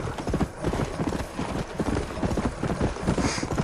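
Horse hooves gallop in a rapid, steady clip-clop rhythm while riding in the video game Red Dead Redemption 2, loud and close throughout with a dense layer of noise beneath.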